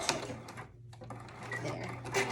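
A vintage Singer 15-88 sewing machine stitching faux leather, a quick rattling run of needle strokes with a brief pause, close and steady.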